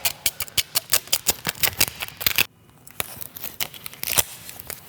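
Vinyl wrap film being trimmed along a car's A-pillar and pulled away, giving a rapid run of sharp tearing and crinkling rips close to the mic, a brief pause, then further peeling.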